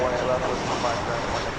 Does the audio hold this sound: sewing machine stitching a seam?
no